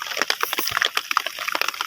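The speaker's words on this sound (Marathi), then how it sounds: "एकदम खळखळ असा झर निघाला आहे आणि लगेच हा खड्ड्यामध्ये भरपूर पाणी साचलं" A spring gushes up in a rain-soaked farm field and fills a pit. The close, lively gurgling and bubbling comes in quick irregular splashes.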